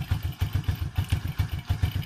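A motorcycle engine idles during carburetor tuning, a close, steady low thumping pulse firing in an even rhythm with no voices.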